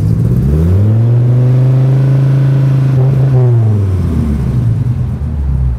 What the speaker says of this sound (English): That V10 has a unique tone all by itself.